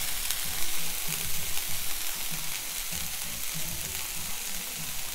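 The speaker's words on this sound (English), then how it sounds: "you just need to keep stir frying like that" Tofu stir-frying in a non-stick pan over medium heat with little oil, a steady close sizzle running throughout with soft rhythmic scraping and stirring, no voices.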